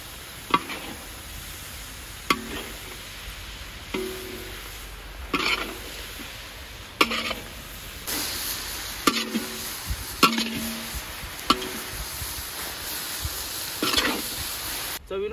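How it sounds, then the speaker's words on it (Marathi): Fenugreek leaves sautéed in a pan for garlic methi, a soft continuous sizzle broken by repeated scraping stirs of the spoon, close and steady throughout. "मेथी आता व्यवस्थित आपण परतून घेऊ"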